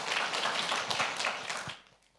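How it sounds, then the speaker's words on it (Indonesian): A church congregation claps in applause during a service, a dense burst of hand claps that fades out after about two seconds. "Berikan dulu tepuk tangan buat Allah kita."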